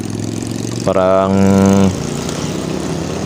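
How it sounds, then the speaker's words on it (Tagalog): A passing Harley-Davidson motorcycle engine throbs with a loud, rumbling tone for about a second, over steady road and wind noise, while a voice speaks. "Ganda ng tunog ng motor na to"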